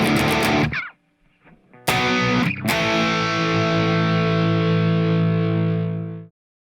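Distorted electric guitar power chords ring out loud, a short burst, a brief pause, then sharp hits into one long sustained chord that fades and cuts off.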